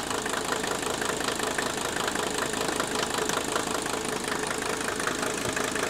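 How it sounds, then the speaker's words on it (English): A Mercedes 300D diesel engine converted to dual-tank vegetable oil idles with a steady, dense clatter of injector knock, continuous and close, with no talk. "Can you hear the difference in the sound of the engine?"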